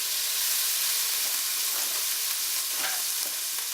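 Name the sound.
meat and garlic searing in a paella pan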